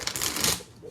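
A quick riffle of tarot cards being shuffled close by, a brief papery burst that fades out.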